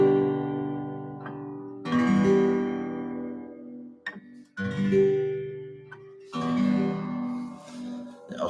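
An acoustic guitar strums a chord, then rings out again after the fretting hand shifts, with three sustained strums separated by brief gaps, close and clear, with no talking.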